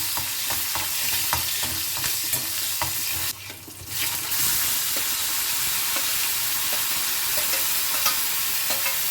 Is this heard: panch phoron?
yes